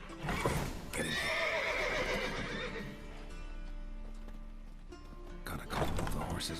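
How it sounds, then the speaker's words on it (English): Horses in The Witcher 3 whinny loudly and clip-clop across the ground in a game scene, with a second neigh near the end and a faint voice underneath. "Gotta call all the horses before they wake the guards."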